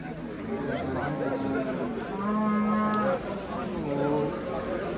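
Tethered dairy cows at a Qoraburug' livestock bazaar in Chiroqchi moo in long drawn-out calls, several overlapping over a busy crowd murmur with people talking.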